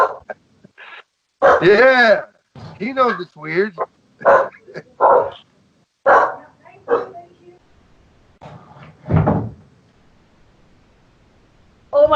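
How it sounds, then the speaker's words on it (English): Two pet dogs barking and yipping excitedly indoors in short loud bursts, mixed with a person talking over them. "My dogs are going crazy."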